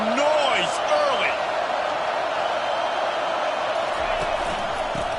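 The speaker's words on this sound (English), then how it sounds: "This crowd bringing the energy and noise early." Virginia Tech and Florida State football fans fill a college stadium with a dense, steady roar, punctuated by a few rising whoops and shouts early on, and commentary voices sit under the noise.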